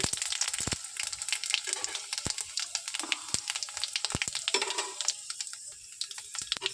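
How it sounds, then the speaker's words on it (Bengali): Panch phoron and dried red chillies crackle and sizzle in hot oil in a wok, with rapid sharp pops and spits over a steady frying hiss, fairly close and moderately loud. "এবার আমি পাঁচফোড়ন আর শুকনো লঙ্কা দিলাম তেলের উপরে।"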